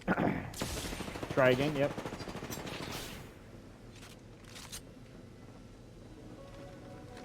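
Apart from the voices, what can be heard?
gunfire in a video game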